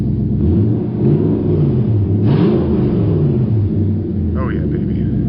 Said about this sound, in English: let's give her a couple revs and then we'll turn her off before we smoke ourselves out.